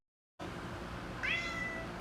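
A single close cat meow rises clearly partway through, over a low steady indoor hum after a moment of silence.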